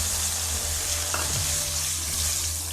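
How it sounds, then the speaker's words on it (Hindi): Tomato masala for daal mash sizzles and fries steadily in a pan, a brief louder hiss and bubbling burst marking water added midway, with no voices. "इसमें थोड़ा सा पानी डाल देते हैं"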